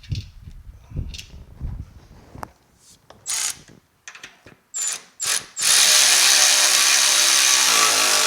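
A hand ratchet clicks in quick bursts while bolting front suspension A-arms together on a 1965 Chevrolet Malibu SS, the close metallic ratcheting stopping and restarting, then giving way to a loud steady mechanical whir.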